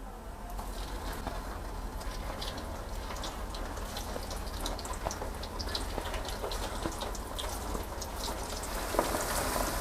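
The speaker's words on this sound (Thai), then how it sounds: "พอน้ำมันร้อนแล้วนำลาบลงไปทอดได้เลยนะครับ" Thai larb meatballs deep-fry in hot oil over medium heat with a steady, dense sizzling crackle that continues evenly throughout.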